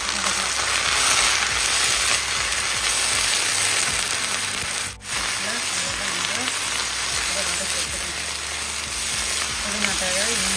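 Coriander leaves, ginger and green chilli sauté in oil with a steady crackling sizzle like light rain, briefly interrupted once, then continuing evenly throughout.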